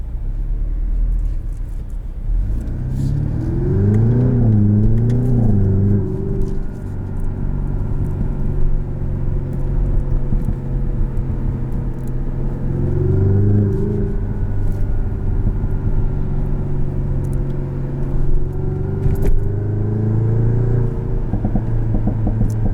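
A turbocharged 2021 Jaguar F-Type P300 convertible pulls away with engine tone rising and falling through several gear changes, a steady rumble heard from inside the cabin.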